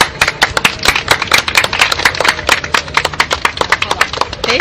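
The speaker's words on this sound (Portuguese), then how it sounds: "uma salva de palmas para o seu sucesso" Applause for someone's success at a spoken event: dense, steady clapping from a group, loud and close, continuing throughout with no voices over it.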